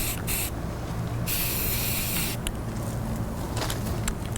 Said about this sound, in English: This is my first one I'm spraying